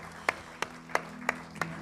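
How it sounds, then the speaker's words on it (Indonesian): During an Indonesian church worship service, the congregation claps for Jesus: five sharp, evenly spaced claps about a third of a second apart, fairly faint, over a quiet, low room hum. "Yang setuju tepuk tangan sekali lagi buat Tuhan Yesus."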